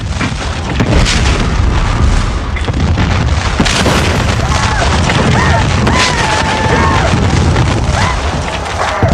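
Massed cannon and musket volleys at Gettysburg during Pickett's Charge, a continuous roar of booms and crackling gunfire that stays loud and dense throughout.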